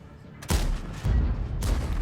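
Two loud cannon blasts from a T32 heavy tank in World of Tanks, the first at half a second and the second near the end, with rumbling battle noise between them.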